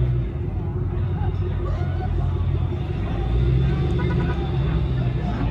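A Roush Mustang pulls away at a car gathering, its deep engine rumble steady and fairly loud against background crowd noise and low voices.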